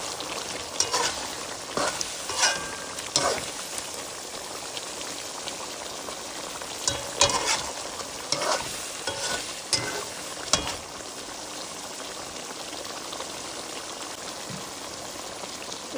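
Shrimp with freshly added green capsicum sizzles in a pan, a soft continuous crackle with scattered louder pops and stirring scrapes, fairly quiet and with no talk.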